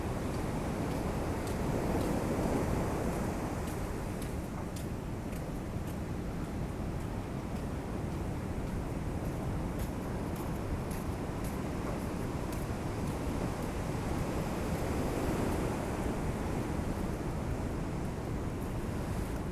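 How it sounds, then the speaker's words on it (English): Ocean surf at Pacifica, California, a steady low rumbling wash of waves with wind noise, continuous and fairly faint with no talking. "Are you able to hear the waves? Hopefully you can hear the surf."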